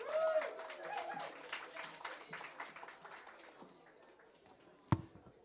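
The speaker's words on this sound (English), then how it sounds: "Give him a round of applause," An audience at a Jamaica 60 media launch applauds the Director of Tourism, Donovan White, as he comes onto the stage, with steady clapping that gradually thins out, a voice speaking over it at first and a sharp knock near the end.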